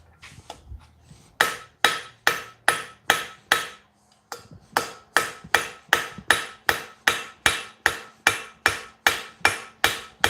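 A hammer forges hot metal on an anvil, striking in loud, ringing blows with a steady rhythm, about two per second, after a brief pause.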